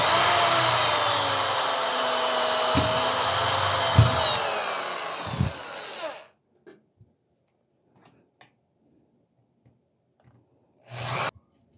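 Power drill boring through-holes for an antenna mount, a loud close whine for about six seconds with a few bumps, then silence broken by small clicks and a short final burst.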